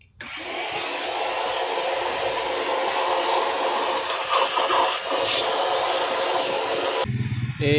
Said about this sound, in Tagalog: Blower naman natin mga boss.